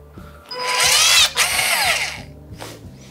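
A Makita cordless sealant gun's motor whirs at maximum setting, rising and falling in pitch for about a second and a half before cutting off, loud and close, with quieter mechanical clicks around it.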